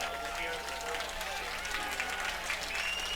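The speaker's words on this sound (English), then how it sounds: "Adam Oviedo greeted with applause on the third base side." Crowd applause at a baseball game, a Cotuit Kettleers versus Falmouth Commodores playoff, as a player is greeted on the third base side: steady, moderately distant clapping from the stands mixed with general crowd noise throughout.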